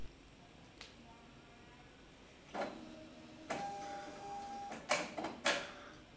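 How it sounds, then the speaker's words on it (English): A print-and-bind machine prints and binds a binder strip: intermittent mechanical clicks and bursts, then a steady motor whine and a cluster of sharp clatters near the end, moderately loud against quiet room noise. "After the first cycle of printing and binding, you will be prompted to insert another strip."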